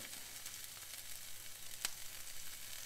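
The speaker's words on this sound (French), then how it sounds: "je fais bien revenir ma tomate" Tomato fries in a pan while being cooked for scrambled eggs, making a close, steady crackling sizzle with a single sharp tick partway through.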